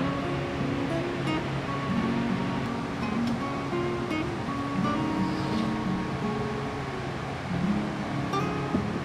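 A waterfall roars steadily in a gorge near a hot spring, a constant broad rushing wash with no pauses or voices heard.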